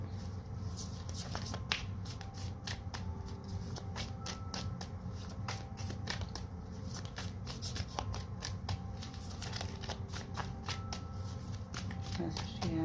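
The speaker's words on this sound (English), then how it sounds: "I'm going to shuffle 2 more times" Rapid crisp riffling and snapping of tarot cards being shuffled close up, repeated in bursts, with soft talking in the background.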